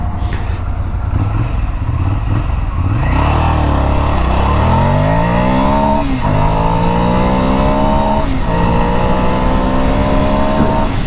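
A 2017 Ducati Scrambler motorcycle accelerates hard through the gears on a cold highway test ride, its engine climbing in pitch several times with brief dips at shifts, loud and close over steady wind roar.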